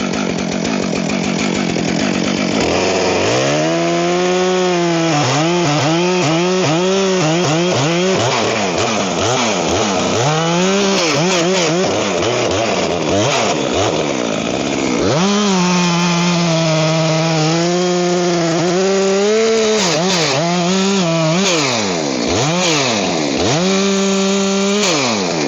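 A Stihl MS 462 C chainsaw bucking a firewood log in the woods, loud and close: the engine climbs from idle into a sustained high-revving cut, bogging and recovering repeatedly as the chain bites, with a short throttle dip midway before cutting resumes.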